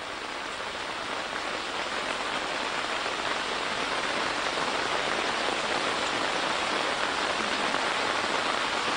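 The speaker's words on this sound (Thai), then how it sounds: "รอให้ฝนหยุดคงไม่หยุดนะ" Steady rain pours down outdoors at a temple gathering, a dense, even hiss of drops on surfaces that holds loud and unbroken throughout, with no voices over it.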